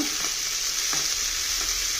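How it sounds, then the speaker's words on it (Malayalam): Prawns frying in a little coconut oil while being stirred in a pan: a steady bright sizzle throughout, with a few soft scraping stirs, close and alone without talk. "ഞാനുണ്ടല്ലോ വറുത്തെടുക്കുവാണ് വെളിച്ചെണ്ണ ഇത്തിരി ഒഴിച്ചിട്ടുണ്ട്"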